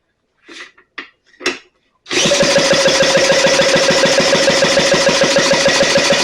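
A 1935 Maytag Model 92 engine is started: a few short pulls and catches at first, then it fires and runs loud and close at a fast, steady, even putter for the rest of the clip.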